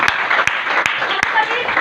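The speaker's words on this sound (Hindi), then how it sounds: "जोरदार ताली पंकज मैडम के लिए" Applause for Pankaj madam at a DXN gathering in Jamui, Bihar: a dense, steady wash of crowd clapping filling the whole moment, with a few sharper claps punctuating it.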